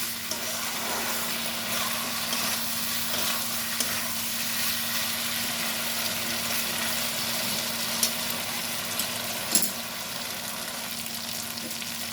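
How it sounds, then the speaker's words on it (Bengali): Poppy seed paste masala fries in oil with a steady, soft sizzle that carries on without a break, plus a few faint scraping stirs near the end. "ততক্ষণ ভাজবো যতক্ষণ পোস্ত কাঁচা গন্ধটা চলে না যায়।"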